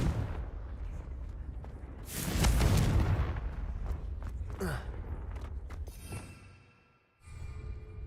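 A Confringo blasting spell cast in Hogwarts Legacy, a single loud booming burst that swells and rumbles for about a second, then fades into lower crackles and a quieter tail.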